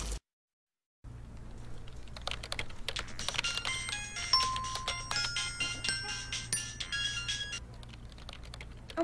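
A phone chimes a text message alert as a short, bright electronic melody, heard nearby over light tapping and a low background hum.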